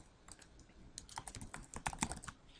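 Quick, uneven keystrokes clatter on a computer keyboard while logging in, soft but close, with bursts of taps and brief pauses and no voices.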